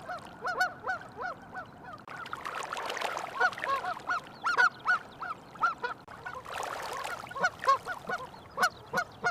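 Canada goose parent gives repeated loud honking alarm calls, a rapid series of harsh honks close by with other geese calling in the background, no talk.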